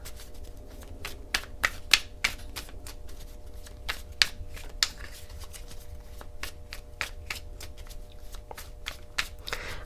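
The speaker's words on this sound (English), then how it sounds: "I know everybody hates the shuffling." A deck of tarot cards being shuffled by hand, with soft riffling and sharp irregular card slaps and taps repeating close by, no talking.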